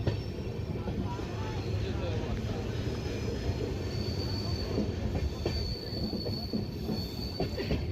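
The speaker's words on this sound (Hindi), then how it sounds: "और रफ्तार पर रफ्तार बढ़ा चुका है ट्रेन" Jan Sewa Express train running at speed between Hajipur Junction and Mahnar Road, with a steady loud rumble, rattling wheels and a faint high squeal throughout, heard from inside the carriage.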